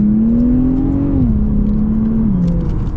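A 2023 Infiniti Q50 Red Sport 400 with all-wheel drive accelerates hard, its engine note rising steadily, dipping briefly at a shift, then holding a strong, close, continuous drone from interior.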